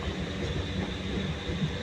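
A passenger train runs along, heard from inside a coach as a constant, loud rumbling roar with a faint rhythmic rattle of wheels and car body.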